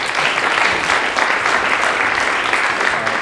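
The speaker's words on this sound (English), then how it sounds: "Give them a round of applause." Loud, dense applause from an audience welcoming presenters of a Latin American poverty data analysis at a tech meetup, continuous clapping filling the room evenly for several seconds with no talk over it.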